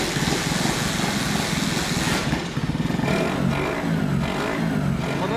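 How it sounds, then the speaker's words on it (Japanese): A complete racing car built in Japan with funnel-type intakes, an air cleaner inside each funnel, and a custom exhaust, its engine running steadily and loud with a throaty, pulsing intake note and slight revving throughout. "吸気音が多分聞こえてると思うんですけど"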